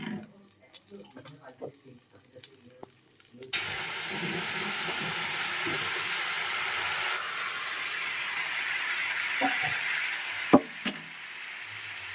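Cumin seeds tempering in hot oil alongside whole ginger in a home kitchen, a loud steady sizzle and hiss that bursts in suddenly and holds strong, easing slightly partway, with a couple of sharp pops near the end.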